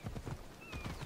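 In the video game Assassin's Creed Odyssey, a big horse's hooves clip-clop in a quick, even rhythm, several soft hoofbeats in about a second, fairly faint and without talking.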